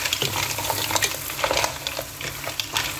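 Mussels stirred and fried in a pan, a steady close sizzle with repeated scraping stirs of a utensil at a loose, uneven rhythm and no voices.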